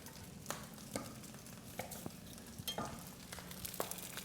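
Butter melts in a hot pan for fried rice, giving a faint, steady sizzle broken by soft scattered pops and clicks, close by and quiet, with no voices.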